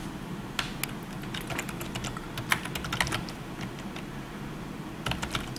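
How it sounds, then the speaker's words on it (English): Typing on a computer keyboard while entering data into form fields in software, with light, irregular key clicks in quick bursts at a steady close distance and no talking. "I'm just going to type in"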